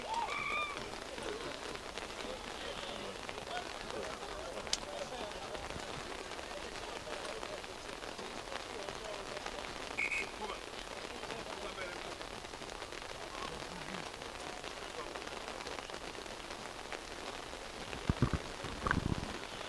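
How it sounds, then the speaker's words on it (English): Heavy rain pours steadily over an outdoor rugby league ground during an under-20 match, a constant dense hiss filling the scene with faint crowd or commentary voices underneath. "As heavy rains pour here at Old Hararians"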